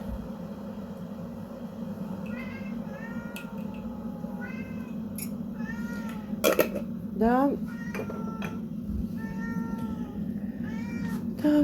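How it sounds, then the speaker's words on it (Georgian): Several house cats meow repeatedly in a home kitchen, in short rising and falling cries spread across the scene, with clinks of dishes and cutlery, a steady background hum and a brief spoken word. "მოკლედ ეს კატები მე გამაგიჟებენ."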